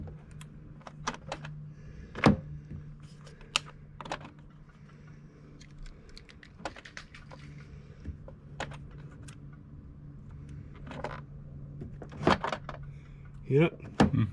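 The passenger door lock mechanism of an L405 Range Rover with a jammed door clicks and knocks in short sharp bursts against a low steady hum, with a brief faint whir near the end.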